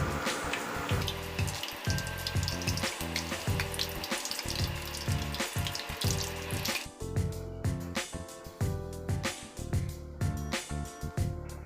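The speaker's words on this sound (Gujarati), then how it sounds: "હવે આપણે પૂરીને ધીમે ધીમે તળીશું." Jeera puris fry slowly in hot oil with a continuous soft sizzle and bubbling, heard under a steady, rhythmic tonal background for the whole stretch.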